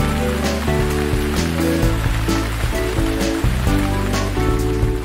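Water poured onto young plants on a farm, a steady splashing, pattering stream that runs for several seconds at moderate loudness, with a soft musical backing underneath.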